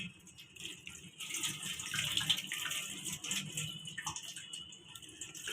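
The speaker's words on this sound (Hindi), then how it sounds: "इसके ऊपर ये ठंडा पानी डालेंगे ताकि ये जल्दी से ठंडा हो जाए" Cold water poured from a tap over boiled pumpkin pieces sitting in a strainer, a steady close rushing stream that runs continuously and fairly evenly throughout.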